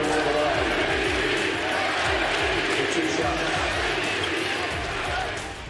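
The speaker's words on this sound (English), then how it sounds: "Listen to the crowd." A basketball arena crowd roars in sustained support as an injured Dallas Mavericks player with a left knee sprain is helped to the free-throw line: a loud, dense wall of cheering that holds steady before easing at the end.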